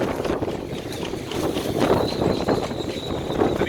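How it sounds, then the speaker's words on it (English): A sustained 50-knot wind roars around a moored liveaboard boat in a Pacific Northwest winter, loud and continuous with buffeting gusts, rattling and a faint whistling tone in the rigging. "We're experiencing a wind event."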